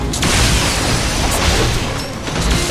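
Fake enemies blow up in The Last Story video game, a dense, continuous roar of booming blasts and crashing debris, loud and close throughout with no gaps.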